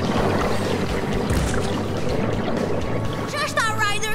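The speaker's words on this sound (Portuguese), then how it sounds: "O fluxo de água pode ser muito forte." Water gushing out of a blocked cartoon pasture channel after a large stone is pushed aside, a steady loud pouring rush throughout, with voices talking over it.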